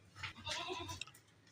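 Pink, four-toothed breeding billy goat, active and healthy, gives a short, fairly close bleat followed by softer wavering calls, with no talking over it.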